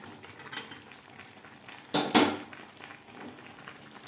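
Fried potatoes stirred into a simmering chicken curry, with soft sizzling under a couple of louder scraping clatters of a utensil against the pot.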